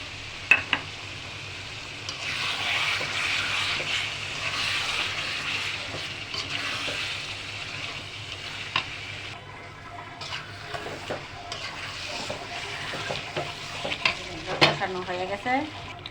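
A chicken roast paste of blended cashews, almonds, raisins, yogurt and a little sugar sizzles in a pan, with repeated scraping stirs and clinks over a constant frying hiss, close and moderately loud.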